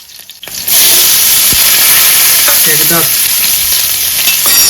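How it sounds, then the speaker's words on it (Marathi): Garlic and chili dropped into hot oil for a spicy prawn curry, starting with a brief rustle and then a loud, close, continuous sizzle and crackle of frying. "आपण मस्त तेल टाकलाय त्याच्यानंतर टाकून लसूण मिरची"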